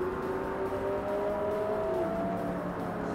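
A race car engine in Forza Motorsport revs up steadily, its tone rising smoothly and then dropping at a gear change about two seconds in, heard close with no talk over it.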